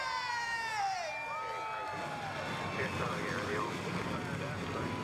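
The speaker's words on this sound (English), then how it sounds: "Engines have been fired. Pace truck rolls off, and so do these 42 competitors." A field of 42 race trucks at the 2025 Pumpkin 250 fires up and rolls off. Several engines rev with rising, overlapping whines over a loud, continuous rumble, while a voice talks over them.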